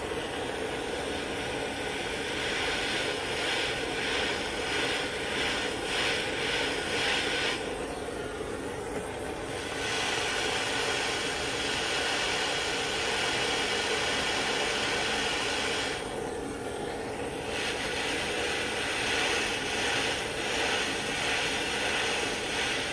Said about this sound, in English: I'm going to take this torch and I want to heat that bung.